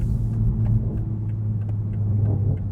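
A Toyota Supra 3.0 Premium drives at night on slick roads, its engine a steady low rumble with road noise and faint ticks from inside the cabin.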